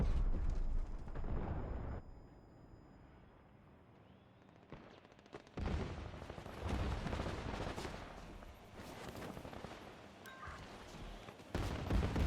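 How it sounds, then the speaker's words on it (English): A grenade explosion in the Combat Champions video game: loud booming blasts and crackling gunfire come in heavy bursts, dropping briefly to a quieter lull before erupting again near the end. "Hit by a grenade!"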